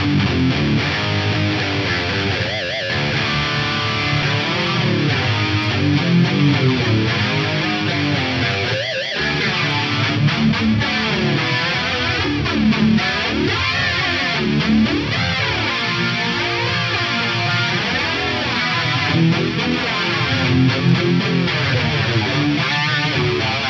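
A distorted electric guitar plays dry through an Axe-Fx amp modeler, thick and saturated, with sustained chords and shifting bends filling the whole passage without voices.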